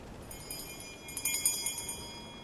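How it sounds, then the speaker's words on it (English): A bell chimes in a prison ship's hold, a cluster of bright ringing strikes that rise and fade in quick succession over a soft background hiss. "A bell chimes, signaling that the prisoners in the hold as George enters should assemble"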